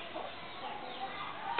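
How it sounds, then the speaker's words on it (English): Chickens clucking on a farm in Capiz, Philippines, where pigs are also kept, a soft continuous murmur of clucks heard faintly in the background without clear talk. "So they do breed a lot of chickens here."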